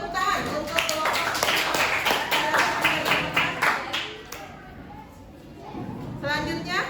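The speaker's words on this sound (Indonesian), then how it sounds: "Kita beri tepuk tangan untuk kelompok." Classroom of students applauding a student group, a steady patter of many hands clapping for several seconds that thins out, then a brief second burst, with children's chatter mixed in.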